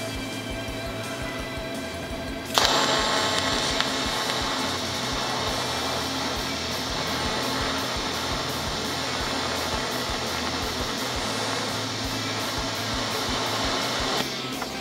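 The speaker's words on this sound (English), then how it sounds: "Yay, you guys actually saw me TIG weld on here" Steady, sustained buzzing hiss of a TIG welding arc tacking a drift car's steel bumper bash bar on a 1JZGTE Supra build, starting abruptly after quiet shop ambience and running evenly for about twelve seconds before cutting off.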